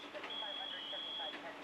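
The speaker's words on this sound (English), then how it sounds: "that's the little alarm on your SCBAs" A firefighter's PASS alarm on an SCBA sounds a single steady high-pitched electronic tone, faint and held for about a second amid talk and background noise at a fire scene.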